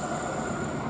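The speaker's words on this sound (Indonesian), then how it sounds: "Kereta Argo Sindoro sudah berangkat dari stasiun Cirebon Kejaksaan" Argo Sindoro passenger train pulling away from Cirebon Kejaksaan station near a level crossing, a steady loud rumble of wheels and rail noise filling the whole second with no voices.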